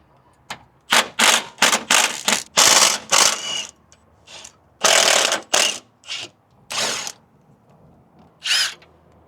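Ratchet wrench loosening the bolts on a car's sway bar during work on a 350z, loud bursts of rapid clicking come in quick repeated strokes, then pause and resume in shorter spells, close up with no talking.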